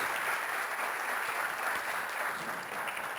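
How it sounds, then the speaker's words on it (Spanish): Dense, steady applause from a lecture audience at a human rights keynote conference, continuous and fairly loud for the whole stretch with no talk over it. "Les pido un aplauso, por favor."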